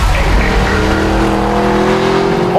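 Mercedes-Benz SLS AMG engine and exhaust roaring steadily on the road, a loud continuous drone with rising pitch as the car accelerates, close and dominant throughout.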